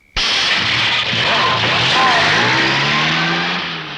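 A car in a comedy film scene starts abruptly and drives off, its engine loud and close as it revs up, holds a steady roar, then begins to fade slightly toward the end.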